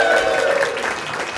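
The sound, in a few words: comedy club audience applause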